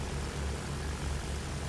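An airplane engine in the World War I shooter Battlefield 1: a loud, steady propeller drone with a pulsing low rumble, heard close and alone.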